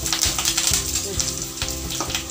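Tadka sizzling for pepper rasam, with mustard seeds, curry leaves and asafoetida crackling and hissing in hot oil. The sputtering is steady and close, with sharp pops running through it.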